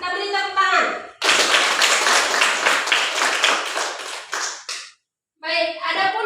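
A class or group claps together for several seconds in a brisk, fairly close burst of rapid applause that cuts off abruptly, framed by a speaker talking just before and after.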